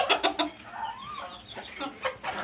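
Native desi chickens on a small farm cluck and squabble, a close, busy run of sharp repeated clucks with a drawn-out call in the middle, no voices.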